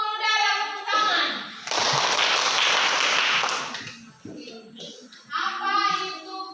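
Applause breaks out in a classroom for a student, a burst of dense clapping from the class lasting about two seconds, with children's voices before and after it.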